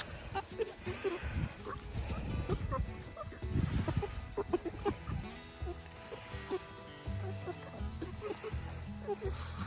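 Chickens on a homestead clucking and murmuring close by while being given a snack, with soft chatter among the flock and a person talking over them.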